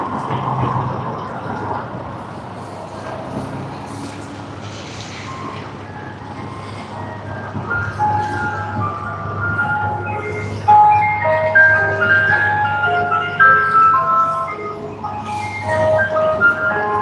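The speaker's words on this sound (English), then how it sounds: "It seems to be an ice cream truck." An ice cream truck's tinkling melody plays in the background near Sydney Airport, its repeated notes rising over a steady low hum of traffic and aircraft. No one speaks.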